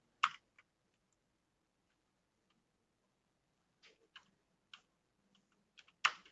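Typing on a computer keyboard comes through as a few sparse, faint clicks and key taps spread out with long quiet gaps between them, set against a near-silent background.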